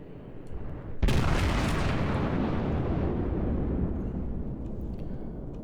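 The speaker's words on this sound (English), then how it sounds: "I'm gonna do a ranging shot just to kind of gauge this guy a little bit" A warship's main guns fire a ranging salvo in World of Warships: one sudden heavy boom, then a long rumbling roar that slowly fades, loud and close, with no talk.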